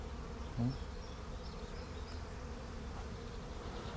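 Bees buzzing among flowers in a city garden in Paris, a faint, steady insect drone low in the mix with a brief louder hum as one passes close.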